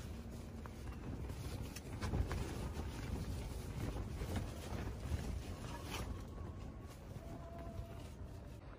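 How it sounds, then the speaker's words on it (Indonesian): Dawn wind on a mountain, Gunung Andong, rushes and buffets steadily across the microphone, a continuous low roar with gusty swells and no voices. "Lagi angin."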